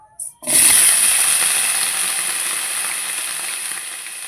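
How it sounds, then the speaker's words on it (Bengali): Loud, steady sizzling of about 300 grams of potatoes frying in a pan, starting abruptly after a brief quiet moment and continuing with a bright hiss. "এখন আমি আলুটা ভালোভাবে ভেজে নেবো"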